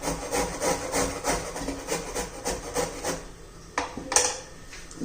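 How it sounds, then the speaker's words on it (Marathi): Carrots are grated by hand for paratha, a quick rhythmic rasping scrape repeating several times per second, close and clear, pausing briefly before a final few strokes. "सर्व गाजर मी असं किसून घेते"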